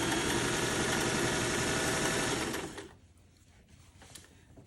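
Sewing machine backstitching a stressed thumb strap seam on a teen sling bag, running steadily and fairly loud for under three seconds, then stopping and leaving a quiet room with faint handling clicks.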